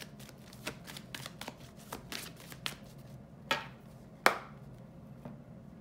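Tarot cards being shuffled by hand during a reading: a quiet, continuous run of soft riffling and flicking, with a few sharper taps as cards are squared or set down. Nobody speaks.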